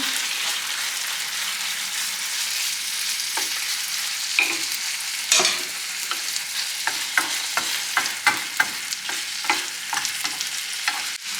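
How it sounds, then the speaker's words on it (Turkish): Pieces of chicken sizzle and spit as they are sautéed in a hot pan, a steady frying hiss broken by a run of quick clicks and scrapes as it is stirred. "Şimdi tavuklarımı koyup sotelemeye devam edeceğim."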